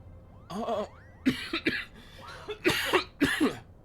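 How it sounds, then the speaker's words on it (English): Several people in a role-play session cough in short, harsh bursts spread across a few seconds, a few bursts close together, with a faint squeaky vocal sound early on and no talk. "We're all coughing down here."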